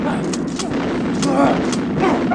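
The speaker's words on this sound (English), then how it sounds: "just shoot wildly into the darkness" Gunshots in Resident Evil Director's Cut ring out as several sharp reports, roughly four spaced bursts, over a dense, loud game soundscape.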